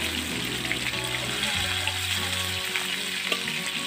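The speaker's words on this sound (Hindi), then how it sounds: "इस तरह से हल्का फ्राई करने के बाद दूसरी तरफ से भी फ्राई कर लेंगे" Chicken pieces fry in a kadai over medium heat with a dense, steady sizzle and crackle, close by, over a low hum. There is no talk.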